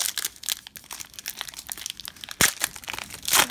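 A 2019-20 Donruss basketball card pack wrapper being torn and crinkled open nearby, quick crackly rustles in irregular bursts with a sharper rip partway through.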